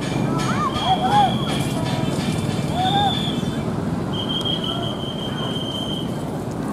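Tokyu 8500 KRL commuter train passing close by on rail track, a steady rumble with high wheel squeals and a long whistling tone above it.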